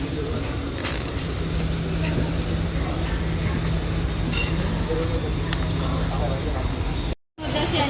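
Rumbling rolling noise and faint rattles of a moving Singapore MRT metro carriage, with voices talking throughout and a brief dropout near the end.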